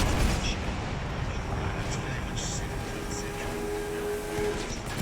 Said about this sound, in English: That mortar is, I think, the heaviest mortar in the game.